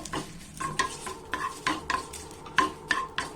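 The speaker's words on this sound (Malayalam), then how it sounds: "ലോ ഫ്ലെയിമിലാക്കിയതിന് ശേഷം ഇതിലേക്ക് നമുക്ക് കറിവേപ്പില ഇട്ട് കൊടുക്കാം" Curry leaves fry in oil on a low flame for a peanut masala. A spoon stirs the pan in repeated scraping strokes with metallic clinks, over a light continuous sizzle. The sound is close and there is no talking.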